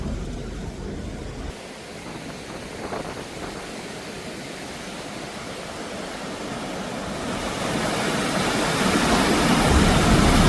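High river water rushes continuously through Hawick, a dense broadband roar that swells louder toward the end, heard close with no voices.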